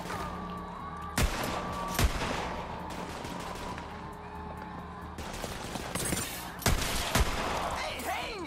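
Gunfire from the video game Borderlands 3 rings out in loud bursts and sharp single shots over a dense background of game effects, with a voice speaking briefly.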